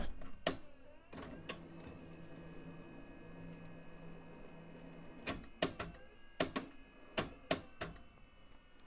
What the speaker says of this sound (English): I'm going to go ahead and eject them first, and you'll see the little dance that they do there with the hubs